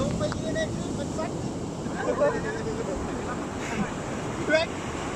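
Sea waves surging onto a beach at a seaside camp, a steady broadband roar of surf with wind buffeting the microphone and faint voices nearby.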